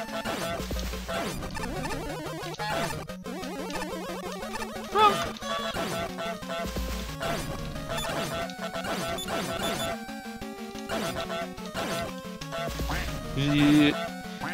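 A cartoonish duck quack in a platform video game sounds amid busy chiptune music, with repeated electronic effects and crashes layered through the game soundtrack.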